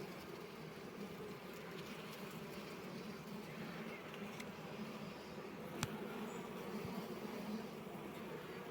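Honey bees drone at a beehive at a mountain forest apiary. A dense, continuous buzzing hum holds steady throughout, with one sharp click partway through.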